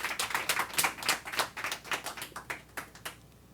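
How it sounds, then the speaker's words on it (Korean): An audience claps to welcome a sales speaker onto the stage, a brisk close patter of many hands that thins out and fades toward the end. "티나조 사장님 박수로 맞아주세요"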